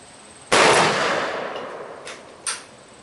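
Shotgun blast from a Chiappa Double Badger firing Challenger ammunition outdoors, a single loud sharp report with a long decaying tail, followed by two fainter sharp clanks or shots about two seconds later.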